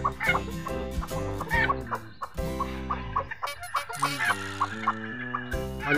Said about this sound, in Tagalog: Malulusog na sisiw.